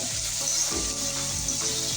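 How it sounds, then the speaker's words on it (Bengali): Ginger garlic paste frying with onions in a pan for a chicken curry, a close, steady sizzle with a few soft scraping stirs every half second or so, no voices. "আদা রসুনটা ভালো করে পেঁয়াজের সাথে ভেজে নেব"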